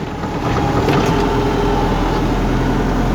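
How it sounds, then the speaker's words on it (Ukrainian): Farm tractor engine running steadily while clearing snow on a winter morning, a continuous loud low rumble with wind-like broadband noise, no talking. "Ще раз сьогодні завели трактора утром. Їдемо розчищати сніг."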